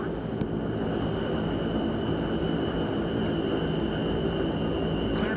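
A light aircraft taking off from runway 24, a steady loud engine drone with a constant high whine, sustained and unbroken.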